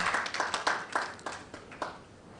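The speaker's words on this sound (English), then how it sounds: "Ladies and gentlemen, another round of applause for our Managing Director" Scattered clapping for a Managing Director at the launch of a national science and maths quiz, a series of separate bursts from a modest audience, fairly faint and thinning out toward the end.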